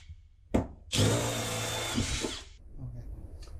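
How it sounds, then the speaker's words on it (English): A power drill whines at high speed for about a second and a half, drilling 3/8-inch holes in metal while a steel partition is installed in a van, bracketed by clunks and handling noises, close up. "I'm going to drill them out with 3/8."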